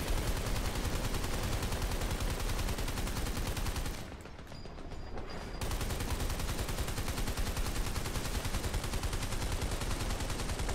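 Heavy MMG machine gun fire in Army of Two: The Devil's Cartel, a loud, relentless rapid stream of shots that dips briefly for about a second and a half before hammering on without a break.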